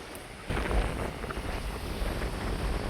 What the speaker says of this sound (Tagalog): ang hangin dito ay habagat. Unti-unti nang lumalakas